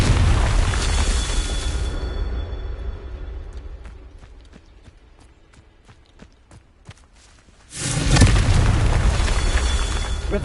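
A Confringo blasting curse bursts in the Hogwarts Legacy game with a heavy booming explosion, then a quieter stretch of rapid footsteps before a second loud rumbling blast takes over the end.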